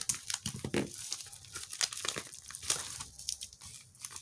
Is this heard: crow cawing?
no